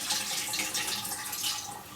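Tap water runs steadily into a bowl of rice being rinsed, a continuous close splashing flow with no voices.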